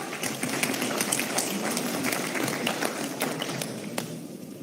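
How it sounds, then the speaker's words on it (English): An audience at a disaster management authority event applauds a memento presentation with sustained, dense clapping from a crowd that holds steady and then eases slightly. "Huge round of applause."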